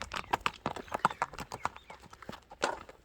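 Horse hooves clip-clopping steadily as the animal is led in at a village goat-pulling (ulak) horse sale, a quick run of sharp, close hoof strikes with no talk.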